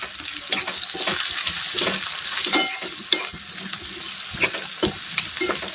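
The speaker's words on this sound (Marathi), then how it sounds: "मोठा कांदा आणि तो असा बारीक चिरून घेतलेला आहे आता सुद्धा छान तेलामध्ये फ्राय करून घ्यायचा आहे" A large finely chopped onion frying in oil, a loud close sizzle with frequent clattering stirs and scrapes against the pan, and no talking.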